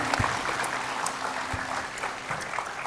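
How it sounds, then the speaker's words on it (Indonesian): A TV talk-show studio audience claps for a guest, a close, steady wash of clapping lasting about three seconds with a few louder individual claps standing out. "tepuk tangan dulu buat Sikdam"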